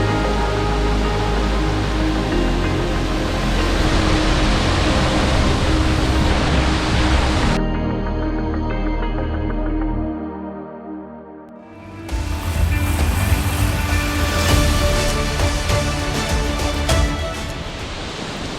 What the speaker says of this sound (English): Assaranca Falls, which is behind me. It's one of the greatest waterfalls here in Donegal.